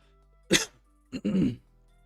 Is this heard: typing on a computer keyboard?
no